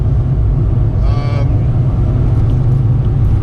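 A 2004 Mazda Demio is driven hard on back roads, its engine and road noise a steady, loud rumble with a brief higher whine near the middle.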